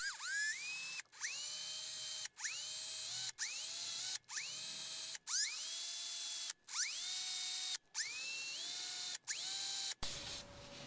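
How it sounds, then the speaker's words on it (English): A power drill with a normal drill bit bores eye holes in a handmade mouse fishing lure, sounding as about nine short whirring bursts that rise in pitch as the motor spins up, each cut off by brief pauses, close and alone. "I'm just going to be using a normal drill bit and then carefully drilling it in."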